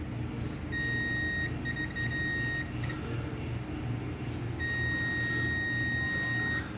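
A multimeter sounds its continuity beep while testing a new Whirlpool Duet dryer heating element: a steady high tone holds for about two seconds, then a second long beep runs to the end, over a low background hum.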